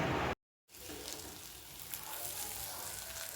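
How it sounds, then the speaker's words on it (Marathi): An egg frying in a home kitchen, a soft steady sizzle that runs close and fairly quiet after a brief burst of louder noise and a moment of silence at the start. "अंडा बनवत आहे."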